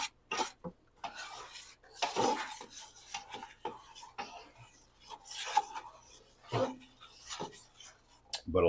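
A wooden spoon scrapes and rubs around a pot while stirring a roux, with irregular close scraping strokes and occasional knocks against the pot, fairly quiet.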